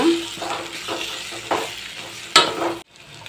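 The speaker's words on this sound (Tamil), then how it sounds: "இதையும் இப்போ நல்லா மிக்ஸ் பண்ணி விட்டுக்கோங்க" Ivy gourd with masala is stirred and fried in a pan: a spoon scrapes in repeated strokes over a constant sizzle, ending with a sharp clink before the sound drops away, with no speech.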